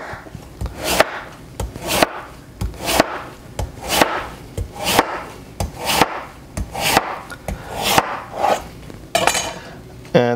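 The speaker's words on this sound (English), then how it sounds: "now we're gonna get our knife and just slice it like this" A knife slices through a quarter of watermelon into wedges on a board, with repeated sharp cutting strokes at a steady rhythm, close and clear, and no talking.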